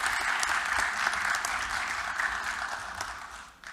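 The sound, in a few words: applause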